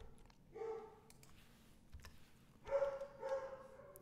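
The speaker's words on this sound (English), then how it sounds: "I'm sorry about the noise, but there's nothing I can do to control the dogs" Faint dogs barking a few times in the background, a short bark early then a louder cluster near the end.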